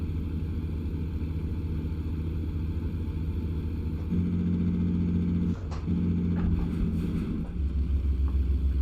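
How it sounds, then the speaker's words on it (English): Truck engine revving in American Truck Simulator while hauling freight, a heavy, continuous low rumble whose tone steps up and shifts a couple of times, with no speech. "Listen to your truck revs."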